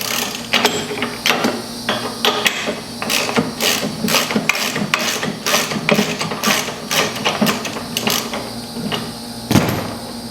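A wrench ratchets and clicks against the steering shaft nut of a Husqvarna mower as it is broken loose, a run of sharp mechanical ticks and clunks at close range with no talk.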